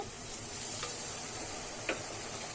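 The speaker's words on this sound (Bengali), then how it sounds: "জল দিয়ে কিন্তু আমি মশলাটা কষাবো নাহলে কিন্তু পুড়ে গেলে তিতো হয়ে যাবে" Spices cooking with meat masala and a splash of water for Bengali bhetki fish-bone chorchori, a continuous close sizzle in the pan with a soft scrape of stirring.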